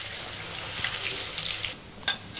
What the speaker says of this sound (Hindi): अब इसे अच्छे से हाई फ्लेम पे ही फ्राई कर लेंगे